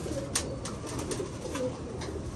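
A female pigeon coos softly and repeatedly over a steady background hum, the low throaty calls close by and continuous.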